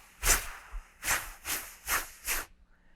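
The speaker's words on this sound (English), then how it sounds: "So with just my air, it would sound like this." Alto saxophone excerpt played with air-only articulation and no tongue, five breathy, hissy note attacks in a loose rhythm, soft and close with little pitched tone.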